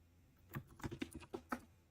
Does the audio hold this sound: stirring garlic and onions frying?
no